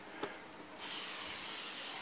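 A Prevail sprayer lays a light mist coat of paint while a Coleman 220 lantern is being repainted: a faint tap, then a steady, close hiss of spray that starts abruptly and holds evenly to the end.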